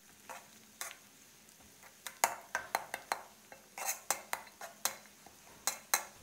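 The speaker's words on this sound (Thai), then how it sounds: "เราจะเจียวกระเทียมของเราให้สุกเหลืองกรอบเลยนะครับ" Coarsely chopped Thai garlic stir-frying in oil in a pan: a light sizzle under repeated sharp clinks and scrapes of a utensil against the pan in an irregular rhythm, with no voices.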